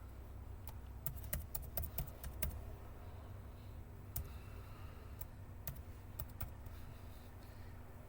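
Keys on a Dell Inspiron computer keyboard tap out a password in quick, uneven clicks, some sharper strokes standing out over a low background hum.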